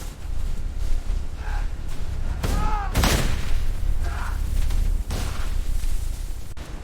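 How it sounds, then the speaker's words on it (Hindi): Heavy gunfire and explosive booms from a D-Day battle as troops reach the clifftops, with a loud burst of shots and a blast midway over a constant rumbling din. "चट्टानों के ऊपर पहुंचते ही भीषण गोलीबारी शुरू हो गई।"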